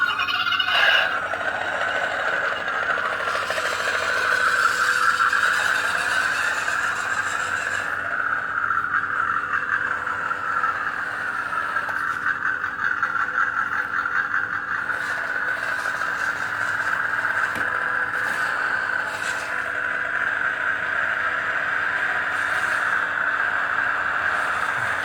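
A small RC crawler with a 260 motor and gearbox climbs a 45-degree slick board ramp, giving off a steady thin electric whine and gear buzz at close range that continues without a break.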